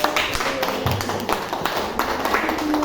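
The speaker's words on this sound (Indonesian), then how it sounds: "Kita berikan aplaus yang meriah" An audience applauds at a school dissemination event on positive school culture, a steady, dense patter of many hands clapping close by for the whole stretch.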